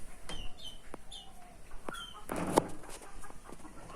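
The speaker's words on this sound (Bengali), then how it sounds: "এ মুরগি" A farmyard chicken clucks in several short, separate bursts at moderate distance over a quiet rural background, with one louder squawk near the middle.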